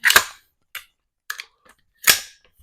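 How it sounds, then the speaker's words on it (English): Magazine dropped from a PSA AR-15 rifle and the chamber cleared, four crisp metallic clacks spaced apart, close and dry against silence. "Drop the mag."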